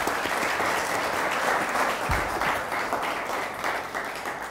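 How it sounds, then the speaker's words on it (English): Studio audience on a talk show bursting into dense, sustained applause that stays loud and full throughout, easing slightly near the end. "You're supposed to clap for that."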